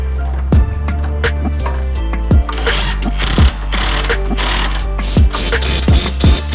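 A ratchet wrench tightens shock bolts on a Ford Bronco, with loud close clicking runs broken by sharp metallic clanks at intervals over a steady mechanical hum.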